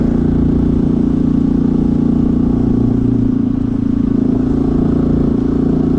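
A Honda CT125 motorcycle fitted with a big bore kit and a 15-tooth sprocket pulls uphill in fourth gear, its engine a steady, loud, close drone that dips briefly near the middle before holding again.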